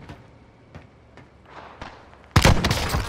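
A sniper rifle shot in the Warzone video game lands as a sudden loud blast late in the clip. Quieter game ambience and faint footsteps come before it.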